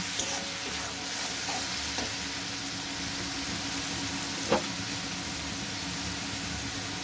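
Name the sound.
stirring chili, cumin and coriander powder into frying paneer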